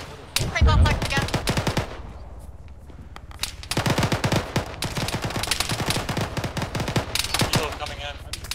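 Weapon fire in a video game: rapid bursts of machine-gun shots crackle in quick runs, pause briefly, then resume in longer sustained volleys, loud and close.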